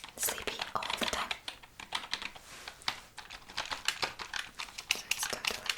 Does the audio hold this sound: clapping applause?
no